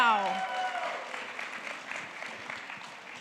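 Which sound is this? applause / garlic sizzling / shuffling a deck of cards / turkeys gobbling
applause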